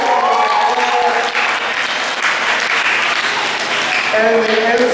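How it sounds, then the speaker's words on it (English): A large crowd at a county fair main show applauds steadily and loudly as the curtain opens, a sustained wash of clapping with some voices mixed in. "Curtain opens to a big round of applause."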